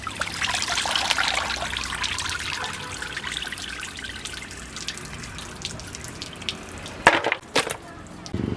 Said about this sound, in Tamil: இந்த கறியோட இருக்கிற எலும்பை நல்லா சுத்தமாக கழுவி எடுத்துக்கிட்டாச்சு